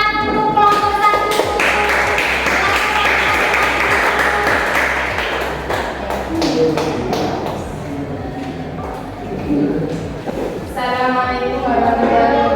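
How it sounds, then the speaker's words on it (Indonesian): Applause for a school class group after a teacher's lesson, a sustained wash of many hands clapping in a room for several seconds, fading midway as murmuring voices take over, then swelling briefly again near the end. "Dulu beri tepuk tangan untuk kelompok 1."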